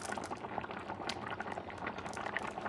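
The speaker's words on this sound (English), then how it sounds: "Starting to boil. That traditional rice." Paella rice liquid for an alligator paella bubbles in the pan at a lively boil, a close, constant burble of popping bubbles with no voices.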